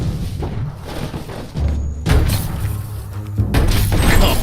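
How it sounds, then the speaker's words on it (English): A barrel blows up in the video game Biomutant: heavy booming thuds over a rumbling game background, with two strong bursts landing a little over a second apart. "Shoot it and watch it blow."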